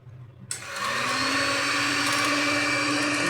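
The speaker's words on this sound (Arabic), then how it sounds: "واديهم بقى كده ضربة بالمضرب" An electric hand mixer starts up and whirs at a steady high pitch while beating sugar for a mango cake, loud and close throughout, with no talk.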